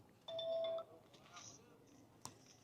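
A telephone gives a brief electronic ring, a tonal chirp close by, followed by quieter beeps and a faint click at a cattle market.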